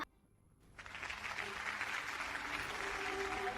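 Conference audience applause rises after a brief quiet moment and then continues as a steady, moderately distant crowd clapping to the end, with no speech on top.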